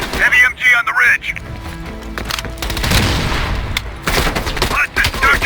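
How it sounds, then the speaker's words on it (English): Heavy machine gun fire rakes down from a ridge in a Cold War shooter, loud rapid bursts and booming impacts crowding the scene, broken by short pauses and mixed with voices talking. "Watch it, heavy MG on the ridge."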